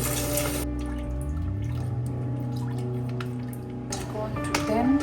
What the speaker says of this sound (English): a clean plastic tub, fill it up with water